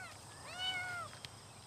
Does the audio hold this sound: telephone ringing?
no